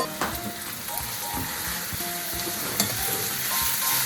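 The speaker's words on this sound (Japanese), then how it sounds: "はい、こう炒めてきますね。" Mushrooms and onions stir-frying in olive oil with garlic, a steady close sizzle with scraping stirs and a few utensil clinks, no talking.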